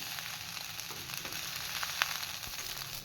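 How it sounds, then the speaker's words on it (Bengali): Fried rice tossed in a pan over high flame gives a soft, continuous sizzle with light stirring scrapes, fairly quiet and steady with one brief clink. "এখন একটু হাই ফ্লেমে সব কিছু মিশিয়ে নেব"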